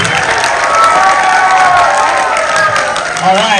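A live audience at a Sydney film premiere applauds and cheers. The clapping is loud, close and continuous, with excited voices rising through it the whole time.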